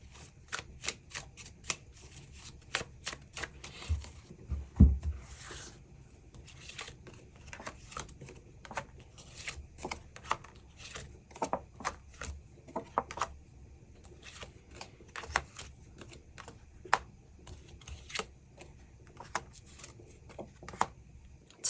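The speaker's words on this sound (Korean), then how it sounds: "추가 카드 뽑아보도록 하겠습니다" Tarot cards shuffled by hand in a steady run of crisp riffles and soft slaps, close and fairly quiet, continuing with no talk over it.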